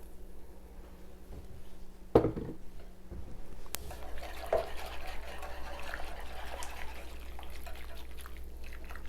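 Flour mixture poured into a pot of broccoli cheese soup, a soft liquid pour with a sharp clink near the start, then steady low trickling and sloshing with faint background hum.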